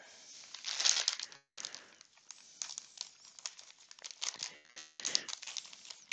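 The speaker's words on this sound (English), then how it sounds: "More plastic bags." Plastic bags crinkling and rustling while an Axminster Craft cyclone interceptor is unboxed, close and fairly quiet, with irregular bursts of crackling and crumpling and a brief pause near the middle.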